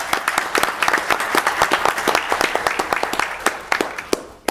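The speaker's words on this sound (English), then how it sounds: "Another round of applause." A small audience at a town council meeting gives a brief round of applause, a few distinct sharp claps at a moderate pace over several seconds, fairly close and fading slightly.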